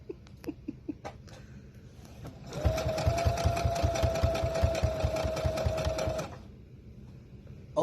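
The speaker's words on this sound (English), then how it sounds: "I'm sewing right now." A sewing machine runs steadily for about four seconds in a workshop where a combat robot is being built, its fast rhythmic needle stitching loud and close with a constant motor whine, set between quieter stretches of room noise.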